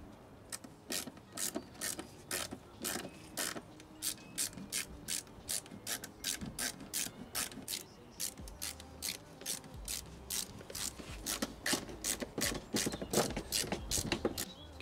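Ratchet driving T25 screws while a pollen filter is fitted on a Vauxhall Corsa: a long, steady run of close, crisp pawl clicks in regular bursts, with brief pauses as the tool is repositioned.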